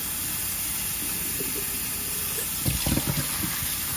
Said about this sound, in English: Then I give it a good rinse with hot water, making sure that I rinse off all soap residue.